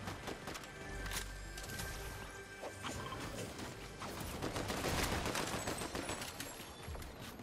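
Dense video game gunfire: rapid automatic bursts and sharp cracks layered with mechanical clatter, continuous and loud across the whole stretch with no voices.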